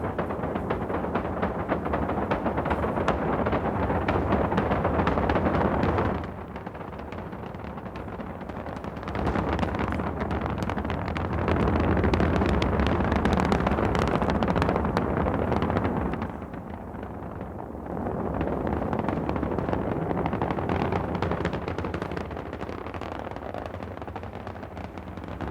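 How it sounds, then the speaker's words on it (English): The Apollo 9 rocket roars at liftoff in a loud, continuous, broadband rumble that swells and dips over about twenty-five seconds, heard alone without speech. "Liftoff. We have liftoff at 11 a.m."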